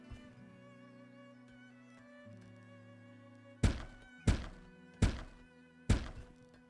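Four sharp, heavy thunks of houses being built in the game Farthest Frontier land about half a second apart over a quiet, steady tonal hum, like blocks being hammered into place.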